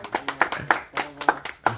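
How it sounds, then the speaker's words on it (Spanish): A few people clap irregularly and close by for the uncle during a birthday mariachi serenade, a brief handful of sharp claps. "Es un aplauso al tío."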